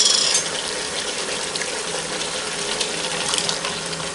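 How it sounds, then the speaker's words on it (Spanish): Tomato being poured into a pot with chicken in a home kitchen, a steady wet hiss and splatter with faint clicking, moderately close and without speech. "ahora ya le vamos a echar el tomate"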